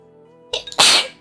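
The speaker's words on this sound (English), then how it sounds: "I've already sneezed like 7 times since I sat down" A single sharp sneeze from a person sitting at a laptop bursts loudly after a short inhaled build-up, close to the microphone.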